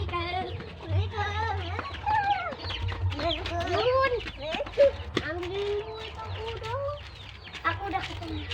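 Indonesian free-range ayam kampung chickens cluck and chatter close by in a busy, overlapping stream of calls with a few sharper squawks, over a low background rumble.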